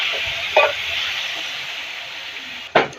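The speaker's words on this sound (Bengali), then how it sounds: "এই তো বন্ধুরা মশলাটা কষিয়ে নিচ্ছি।" Ground spice powder frying in hot oil in a pan, a steady bright hiss with two sharp spattering pops, close and fairly loud.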